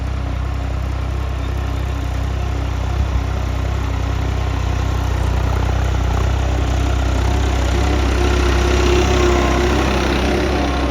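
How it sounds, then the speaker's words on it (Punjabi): A tractor engine runs steadily while ridging a field for maize, with a loud, continuous low drone and a faint rise in load toward the end. No voices are heard. "ਜਦ ਕਰਾਹ ਭਰਦਾ ਨਾ ਟਰੈਕਟਰ ਚੰਗੀ ਆਵਾਜ਼ ਬਦਲਦਾ ਆ ਦੇਖੋ"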